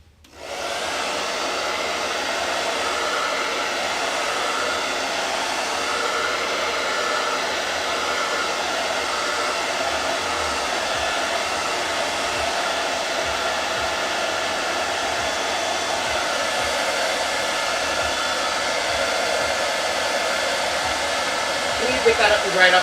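A hair dryer blows on a freshly painted farmhouse-style porch sign, a loud, steady whoosh that starts abruptly and runs unbroken for over twenty seconds.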